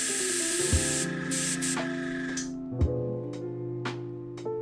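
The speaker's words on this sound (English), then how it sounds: "Try a test spray on the kitchen paper to check the color." An airbrush hisses in several short bursts of spray onto kitchen paper, close and steady, over a low background hum, with small clicks between bursts.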